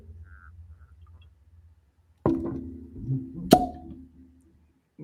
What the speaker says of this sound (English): we'll be doing another fresh cork pop